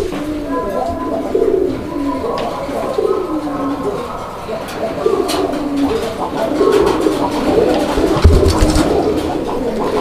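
Pet pigeons at a pigeon seller's stall coo repeatedly in low, rolling calls, several birds overlapping at close range, with someone talking over them at times.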